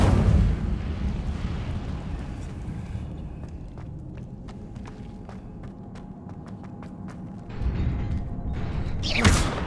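A fire spell cast in the video game Hogwarts Legacy: a loud burst of roaring, crackling whoosh that fades into a run of rapid sharp crackles and ticks, then another rising flare of rushing noise at the end.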